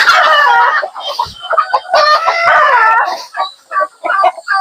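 A mother hen clucks and squawks agitatedly at close range after being disturbed, a run of harsh, excited calls with short pauses near the end.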